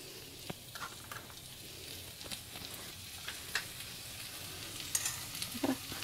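Coriander and mint leaves sautéing in ghee for chicken haleem: a faint, steady sizzle with soft crackles and occasional light stirring scrapes, no voice.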